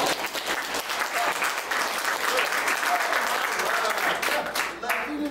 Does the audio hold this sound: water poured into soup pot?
no